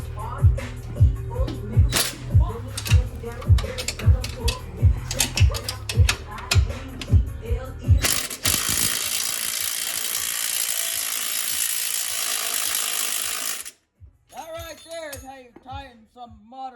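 A ratchet tightens bolts on a 350 engine in quick, loud clicking runs with short pauses between them. A long, steady rushing noise follows, then music.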